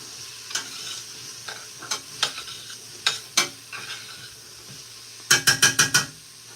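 Ingredients for chicken noodle soup sauté in a pot with a soft sizzle under repeated utensil scrapes and clacks, ending in a quick run of five sharp knocks against the pot.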